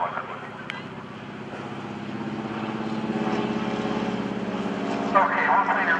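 An airplane flies slowly, nose high, at about 65 mph at the 2012 NAS Oceana Airshow. A steady propeller-engine drone hums throughout and grows gradually louder toward the end.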